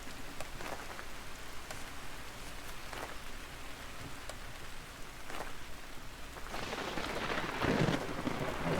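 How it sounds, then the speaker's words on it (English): Steady rain and a thunderstorm in the Vintage Story game, a dense hiss of rainfall with occasional soft cracks and a swelling rumble of thunder building near the end, no speech. "Oh, the lightning and thunderstorm just will not let up."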